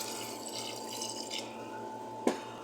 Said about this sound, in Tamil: இப்போ நமக்கு தேவையான தண்ணியை ஊற்றிக்கலாம்